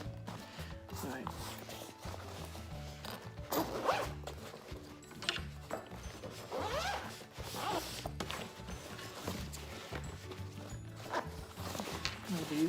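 Zipper on a ukulele gig bag being worked in quick repeated short pulls, quiet and close, with soft rustling and handling of the bag between strokes.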